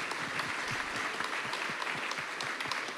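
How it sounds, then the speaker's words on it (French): An audience at a conference panel on cyber defence warmly applauds two guests, a steady, even wash of clapping at moderate level with individual claps audible throughout. "on peut les applaudir avec chaleur"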